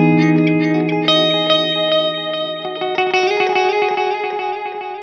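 A guitar through a Strymon Timeline delay pedal plays a steady run of picked notes, each followed by repeating echoes that wash together in a dense, shimmering tail.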